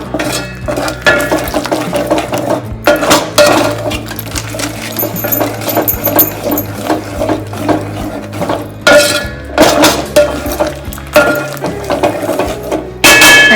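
Spice mixture of chillies, salt and turmeric being stirred together with a spoon in a metal bowl, a steady run of clinking, scraping strokes with a rhythmic ratcheting quality, close and fairly loud, with no talk.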